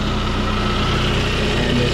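Saab 9-3 convertible engine idling steadily after a valve cover gasket change, an even, close-up rhythmic putter with a low pulsing beat and no change in pace.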